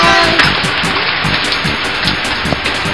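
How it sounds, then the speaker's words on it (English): Rain falls steadily in a continuous, loud hiss of drops that holds the same level from start to finish. "Oh no, it's still raining."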